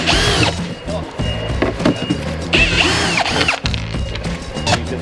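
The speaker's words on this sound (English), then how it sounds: "A screw gun. Get a screw gun." A screw gun drives screws during a Nissan R33 GTR build, giving repeated whirring bursts with ratcheting clatter and clunks close by.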